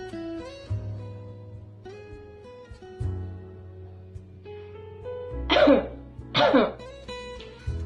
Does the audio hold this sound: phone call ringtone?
no